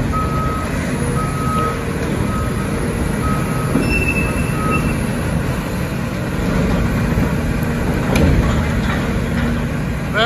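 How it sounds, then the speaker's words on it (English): Two loaders lifting and moving a derailed train car at a cleanup site, heavy diesel engine rumble with intermittent reversing beeps and metallic clanks, loud and continuous. "They are moving an entire train car here."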